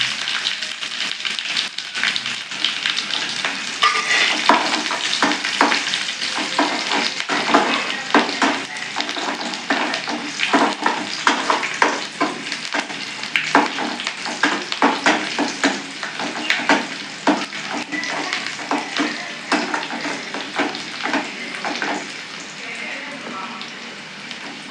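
Onions frying and being stirred in a pan for Tirunelveli fish curry, a dense crackling sizzle with a rhythmic scrape of the spoon throughout, close and steady.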